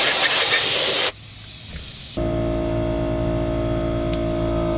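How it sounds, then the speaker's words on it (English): Compressed air blasts dust out of a CFMoto UForce 1000XL belt housing in a loud, close hiss that cuts off after a second, followed by quieter rustling and then a steady mechanical hum. "I'm just going to blow everything out with some compressed air"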